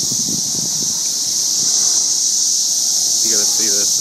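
A dense, constant high-pitched whine from swarming cicadas fills the air, with brief faint voices underneath.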